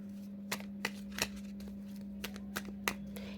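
A tarot card drawn from a deck: several sharp, light paper snaps and flicks spaced irregularly over a low steady hum, close and quiet with no talking.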